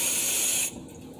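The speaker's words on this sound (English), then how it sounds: "I always rinse my food off." Tap water runs over yellowfin tuna steaks being rinsed, a steady close hiss that cuts off sharply partway through, leaving quieter background.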